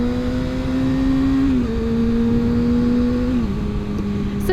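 Motorbike riding along a loud dual carriageway, with a steady engine drone and whir that shifts pitch slightly as the speed changes, and constant road roar all around.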